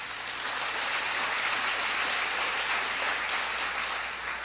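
Applause from an audience at a 1984 Copyright Office celebration, a dense, even wash of clapping sustained throughout, no voices over it.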